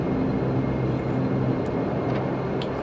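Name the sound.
Majestic Q400 turboprop engines throttling up, flight simulator game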